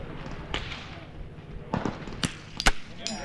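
Rifle shots at an NRL22 match striking steel targets, a few sharp cracks and ringing clangs scattered over a few seconds, fairly distant and moderately loud against quiet outdoor background.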